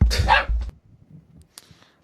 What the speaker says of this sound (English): Dogs are barking again.